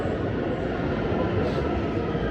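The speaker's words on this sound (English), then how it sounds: "A train, public transit" A train on a public transit line in Tehran, Iran gives off a steady, continuous rumble and rattle that stays at an even level throughout.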